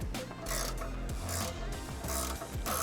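A ratcheting tool is worked in repeated short strokes, tightening a monoball bushing into the rear knuckle of a Z1 G35. Close, rhythmic clicking and grinding creaks come in bursts of roughly half a second, with no talking.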